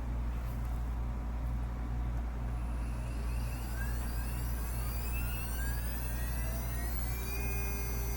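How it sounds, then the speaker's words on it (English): A CNC spindle motor spins up during machining of a metal Antikythera replica, its whine rising steadily in pitch over several seconds above a constant low machine hum, with no talking. "And now we're going to go ahead and start our spindle motor running."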